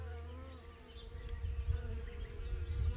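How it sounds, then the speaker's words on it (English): Bees buzz as they fly in and out of a hive entrance, a steady close droning hum that swells slightly over a few seconds. "you can see there's 3 or 4 bees going in and out here"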